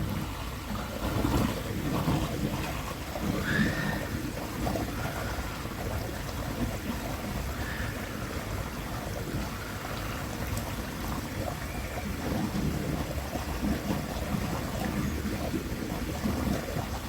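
Gurgling water inside a Nexus pond filter that appears to be malfunctioning, a steady churning, bubbling wash with occasional splashy gurgles, fairly close and continuous throughout, with no one talking over it.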